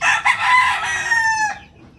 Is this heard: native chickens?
yes